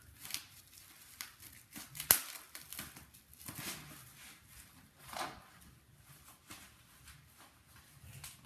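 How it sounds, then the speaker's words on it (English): Scissors snipping through packaging while unboxing framed autographed wall art, a few scattered close cuts and crinkles with one sharp snap, spaced irregularly over quiet background. "Let me grab the scissors again to make this quicker."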